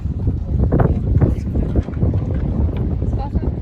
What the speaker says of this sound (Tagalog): ang hangin na. Naku, maingay na to.